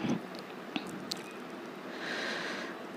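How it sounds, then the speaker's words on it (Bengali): Coriander leaves being stirred into cooking broken rice, giving soft, wet squishing and scraping sounds with a few small clicks, quiet and close, alone without talk. "এই তো ধনিয়া পাতা দিয়ে নাড়াচাড়া করে নিচ্ছি।"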